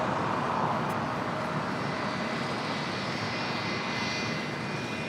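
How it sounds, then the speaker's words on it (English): A United Boeing 757-300 jet arriving at LAX produces a loud, steady engine roar with a faint high whine running through it, close and sustained throughout. "It's a United 757-300, flight 2361."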